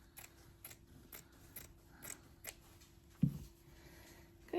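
Scissors snip through trash material for a July 4th craft project, a series of crisp, close cutting clicks in an uneven rhythm, then a soft thud near the end.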